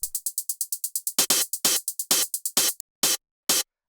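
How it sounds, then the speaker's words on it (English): A white-noise drum synth hi-hat plays rapid, even, crisp ticks, then breaks into longer hissing hits spaced out and finally stops, all alone with no talk. "Just a simple little white noise drum synth."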